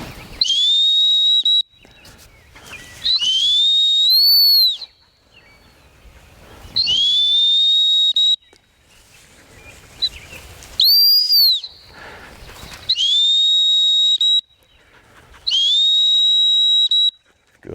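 Dog-training whistle blown during bird dog flush training, sounding as a series of loud, shrill trilling blasts, each lasting one to two seconds with short gaps between, clear and close with no talking.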